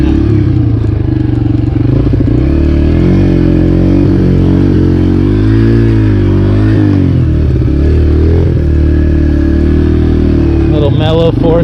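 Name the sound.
125cc four-stroke motorcycle riding on a trail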